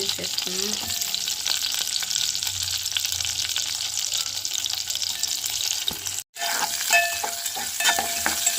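Chopped onions and tomato frying in hot oil in a home kitchen, a close, steady sizzle with scraping stirs and a brief break before the crackling resumes.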